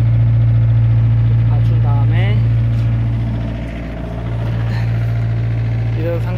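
An excavator engine runs with a steady, heavy low drone while the machine raises its front to lift a derailed track off the ground. Someone talks over the engine, which dips briefly in loudness midway.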